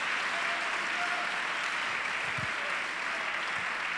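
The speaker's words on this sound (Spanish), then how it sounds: "Démosle ese aplauso fuerte al Señor." Church congregation bursts into strong, steady applause for the Lord during a Spanish-language sermon, a dense, continuous wash of clapping that fills the room at an even level.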